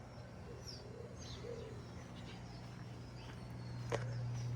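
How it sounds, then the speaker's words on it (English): Birds sing in a quiet natural setting in Puerto Rico, faint chirps and soft cooing calls scattered across a low steady background hum, one brighter call standing out near the end. "You could see just birds singing."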